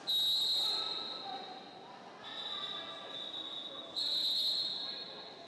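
Referee whistle ending a jam at a junior girls' roller derby playoff bout, sounding as long shrill blasts repeated three times over steady arena crowd noise.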